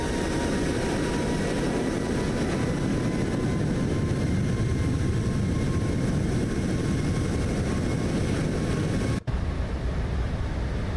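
A Boeing 737 MAX 8 climbing in Microsoft Flight Simulator: a loud, steady roar of jet engines and airflow held throughout, with a brief dropout near the end.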